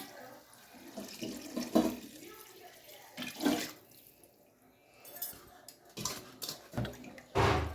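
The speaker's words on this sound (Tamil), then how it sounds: "1 கிலோ அரிசிக்கு வந்துட்டு 4 கப்பு தண்ணி ஊற்றுறோம்" Water splashes in several short bursts into a pot of rice, with quiet pauses between pours.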